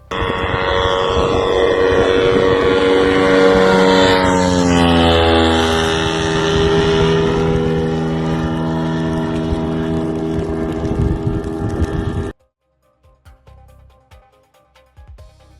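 An AQ400 long-range attack drone on its first flight passes overhead, a loud steady engine drone with a pitch that rises and then falls as it goes by, cutting off abruptly near the end.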